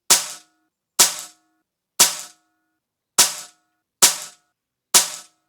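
An HFT500 air rifle fires six sharp, loud shots, each a crisp crack with a short decay, spaced about a second apart in a steady rhythm, with no talk.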